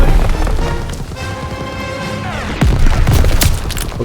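Explosions from shot ammo caches in Call of Duty WWII, a loud close boom and crashing blast with rumbling debris amid ongoing game action, no talk.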